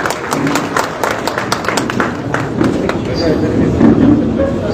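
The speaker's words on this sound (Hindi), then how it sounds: "मैं चाहता हूं कि तालियों की गूंज हो सकती है इस मौके पर" An audience applauds at a felicitation ceremony honouring notable figures, with scattered, fairly close claps in uneven bursts beneath continuing talk.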